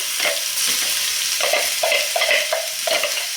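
Chopped vegetables stirred through a sizzling cumin and asafoetida tadka, a steady close fry with repeated scraping strokes of a spoon against the pan, no voices.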